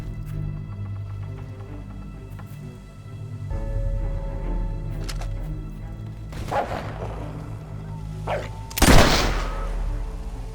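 Scattered gunshots sound in Fable 3 over a low game background hum, with a few sharp distant cracks and a loud, close blast near the end.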